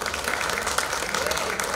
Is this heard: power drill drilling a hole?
no